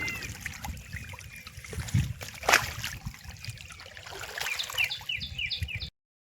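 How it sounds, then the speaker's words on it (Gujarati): Water trickles and splashes quietly as a container fills outdoors at a farm, with a slightly louder gush midway, then the sound stops abruptly. "કેવું સહેલો મસ્ત ભર્યું જો પાણી જાય।"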